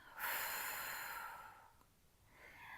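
A long, forceful breath out during a pilates abdominal exercise aimed at strengthening deep core muscles, loud and close, fading over about a second and a half before a softer breath follows.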